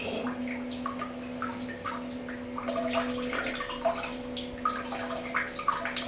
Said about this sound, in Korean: 일단 노즐 세척.